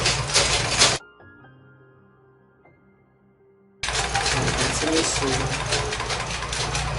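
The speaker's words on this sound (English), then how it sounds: "The first stitches is I will lock my first stitches and I continue." Sewing machine stitching a long straight skirt seam, running loud and steady for about a second, pausing briefly while the stitches are locked, then running continuously again to the end.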